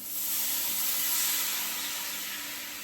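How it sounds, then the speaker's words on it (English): Loud, steady hissing sizzle of white wine hitting a hot pan to deglaze it after cooking steak, constant and bright, with no voices. "You can hear it sizzle."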